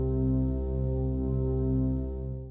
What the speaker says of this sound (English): You will hear a drone chord in the background